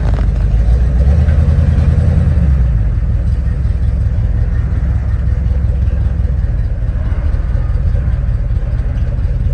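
Hot rod engines at an All Ford car show at Summit Racing rev and rumble continuously, a loud low drone with a stronger throaty surge in the first few seconds, heard from close by without talk.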